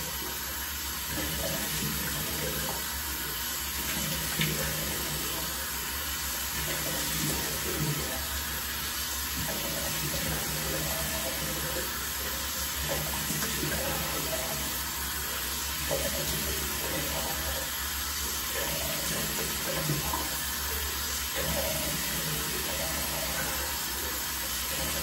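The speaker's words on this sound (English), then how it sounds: "Let's go ahead and splash on some hot water." Hot water runs steadily from a tap and is splashed onto a face at a sink, a continuous close rushing and splashing with no voices.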